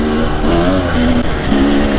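Enduro motorcycle engine still being run in, revving in short rising and falling bursts that stay below high revs, loud, close and continuous, with no talk over it.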